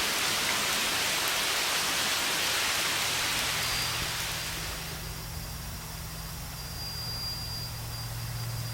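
Steady hiss of rain fills an audiobook passage, loud and broadband at first, then easing to a softer, more distant patter with a low rumbling undertone, no voice present.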